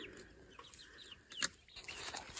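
Quiet clucking from a hen mixed with high, thin peeps from chicks about four weeks old, fairly close, with no one speaking.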